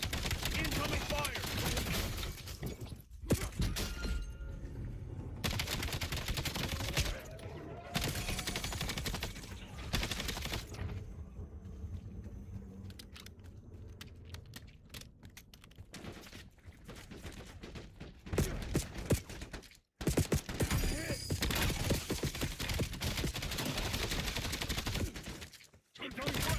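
Sustained automatic gunfire from the video game Black Ops 7, a dense, loud, nearly continuous barrage of rapid shots with brief gaps and some game voices underneath.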